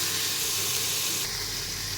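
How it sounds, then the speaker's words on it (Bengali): Mixed vegetables such as peas, beans, tomato, carrot and broccoli sizzle and hiss steadily in a hot pan while being stirred, a continuous close frying noise with no talking. "সমস্ত ভেজিটেবলসগুলো দিয়ে দিলাম। আমি একটু নাড়াচাড়া করে নেব।"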